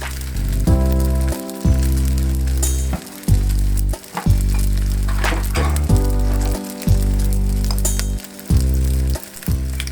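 Hot oil sizzles steadily in a single pan while shrimp fried rice with five spice fries, loud and close, pulsing with repeated stirring and tossing.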